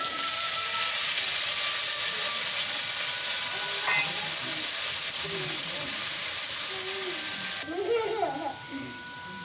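Potatoes and green chillies sizzle in hot oil with dried red chillies and black cumin, a steady loud frying hiss with scattered stirring clatter that lasts throughout.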